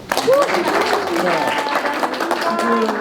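A small group of participants at a community workshop on climate monitoring gives a brief round of applause, the clapping partly buried under someone talking over it.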